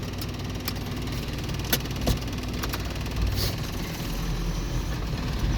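A car engine running again after a relay fault, giving a steady, close idling drone broken by a few sharp mechanical clicks, with no talking.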